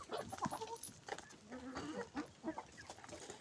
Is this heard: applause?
no